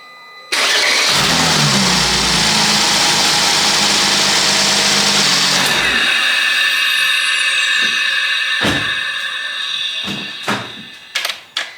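A 2015 Mercedes-Benz C450 AMG under engine replacement cranks and fires up close by, a loud roar that settles into a steady idle before the engine shuts off, followed by a few clanks.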